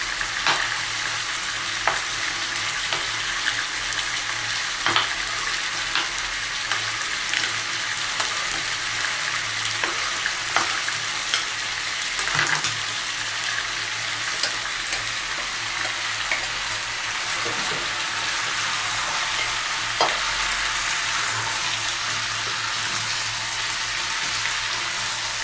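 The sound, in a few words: stirring chicken stew ingredients sizzling in a pan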